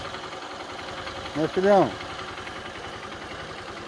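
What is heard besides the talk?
motorcycle engine running during a ride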